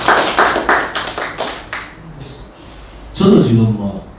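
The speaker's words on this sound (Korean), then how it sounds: "경북도당에 박수 한번 해주세요." Clapping from a small gathering at a Daegu–Gyeongbuk party members' meeting, a short run of sharp, close claps and snaps in the first two seconds, then a brief voice and a burst of talk near the end.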